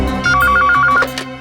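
A telephone rings in a scene from the CID crime drama with a rapid electronic trill of repeated tones, loud and close, over a soft background score.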